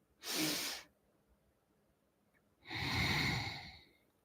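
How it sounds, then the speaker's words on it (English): Two separate breaths during a breathing exercise: a short airy inhale through the nose, then after a pause a longer, fuller exhale, both close and alone with no talking. "Inhale, exhale."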